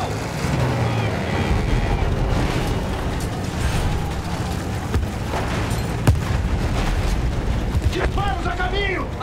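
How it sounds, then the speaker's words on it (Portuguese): Artillery fire and explosions rumble through a dense World War I battle in Battlefield 1, a continuous heavy roar of booms and blasts with engine noise and shouted voices layered over the din. "Disparos a caminho! A artilharia está acabando com os nossos rapazes!"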